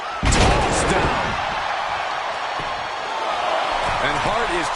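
A wrestler is slammed onto the ring mat in the WWE 2K25 video game, a sharp thud followed by a loud arena crowd roar, with commentators talking over it.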